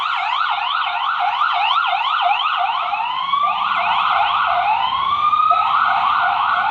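Several police sirens wail and yelp together, loud and continuous, overlapping rising and falling tones close by.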